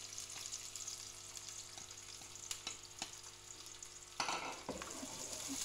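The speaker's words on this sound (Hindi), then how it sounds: "अब मैं इसमें प्याज डाल रही हूँ" Onion hits hot desi ghee for a home-style mixed vegetable sabzi, giving a soft, steady frying sizzle with faint stirring taps, then a brighter burst of sizzle near the end; quiet, close, no talking.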